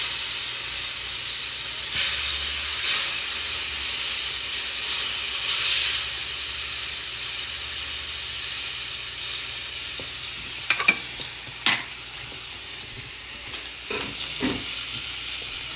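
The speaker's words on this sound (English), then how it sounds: "give these a nice hard sear, probably about 2 minutes on each side" Food searing in a smoking-hot pan: a steady loud sizzle and hiss for the whole stretch, with a few sharp clinks and scrapes of utensils near the end.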